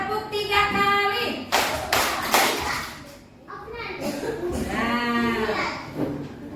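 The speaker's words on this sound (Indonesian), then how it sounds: "Tepuk 3 kali." A class of young children claps in a quick burst, with lively kids' voices chattering and chanting over and around the claps in a busy classroom.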